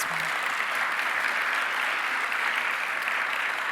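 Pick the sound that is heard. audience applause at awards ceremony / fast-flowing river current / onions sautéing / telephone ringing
audience applause at awards ceremony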